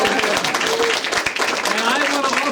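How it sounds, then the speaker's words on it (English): A crowd at an early vote day of action rally in Great Neck claps steadily in a round of applause that lasts the whole moment, loud and continuous, with no gaps. "Let's give her a big round of applause."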